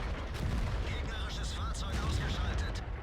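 Heavy booming battle noise from the tank game World of Tanks, with deep low rumbling blasts and distant gunfire throughout, while someone talks over it.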